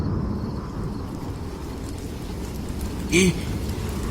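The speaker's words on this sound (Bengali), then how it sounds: "এই যে ঝড় শুরু হয়ে গেছে গো এমন মুসলধারে বৃষ্টি" A storm brings strong wind and a torrential downpour, a dense steady roar throughout with a short brighter blip near the end.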